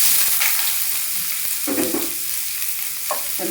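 Finely chopped onion and green chillies frying in hot oil in a pan, a loud close sizzle with brief bursts of stirring and scraping, no voices.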